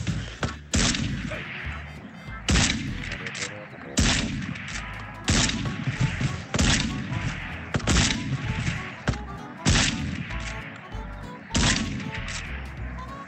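Video game pump shotgun blasts, about eight heavy booming shots spaced roughly every one and a half seconds, each with a sharp crack and a rumbling tail, loud and close with no talk over them.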